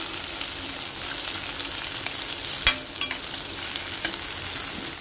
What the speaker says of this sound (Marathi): आता आपण त्यामध्ये टोमॅटो टाकूया। 1 मोठा टोमॅटो घेतलाय। आता दोन्ही चांगलं परतून घेऊया।